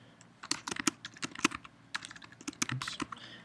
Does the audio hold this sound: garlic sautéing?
no